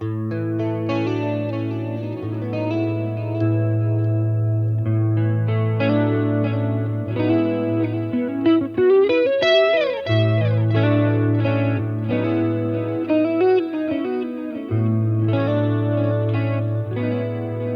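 An electric guitar played through a Boss Katana-50 amplifier with plate reverb rings out in sustained chords and single notes, with a steady low drone beneath, a bend-like swoop midway and soft reverb tails, all alone without talk.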